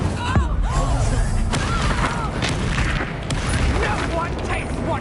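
Hogwarts Legacy combat in which Incendio fire and Confringo blasting spells crash out in dense, overlapping booms over a constant rumble, with shouting voices mixed in.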